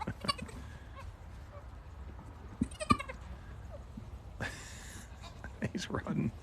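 A freshly born baby goat bleats several times in short, thin cries, fairly quiet against a noisy background of rustling and other farm sounds, with people talking nearby.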